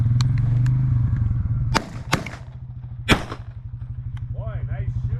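Three sharp shotgun blasts ring out during a Minnesota dove hunt, spaced over a couple of seconds, loud and close over the steady rumble of an idling four-wheeler engine.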